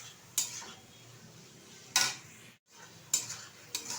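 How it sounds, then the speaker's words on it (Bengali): Small chuno fish are stirred in a kadai, giving four short scraping, clinking strokes of a utensil against the pan with quiet pauses between them, close and fairly soft with no voices. "ভালোভাবে ধুয়ে পরিষ্কার করে এটা ঢেলে দিলাম কড়াইয়ের মধ্যে। এখন বেশ কিছুক্ষণ নেড়ে চেড়ে নেব।"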